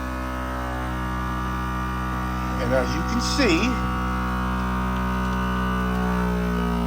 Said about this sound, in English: Now I want to vacuum seal now, so all I do is press the button